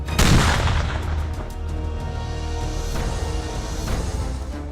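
A blast during commando training for Indonesia's KOPASKA navy frogman unit opens with a loud, booming burst that rolls into sustained low rumble and crackling gunfire-like noise for several seconds, with no talk.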